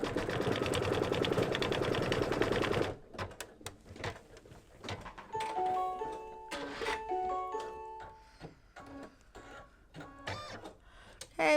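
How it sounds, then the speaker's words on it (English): An embroidery machine stitches down a fabric applique piece on a pinwheel mug rug with a fast, dense, mechanical rattle for about three seconds. Sparse clicks, taps and short electronic beeps follow. "I'm going to go ahead and stitch color stop number 8, which is going to tack down the center circle of the pinwheel."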